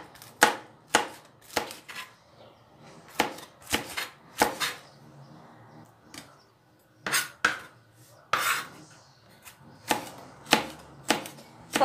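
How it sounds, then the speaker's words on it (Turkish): A green pepper is chopped into small pieces with a knife on a cutting board in a home kitchen, sharp irregular knocks of the blade coming in short bursts with pauses between them. "yeşil biber doğrayacağım."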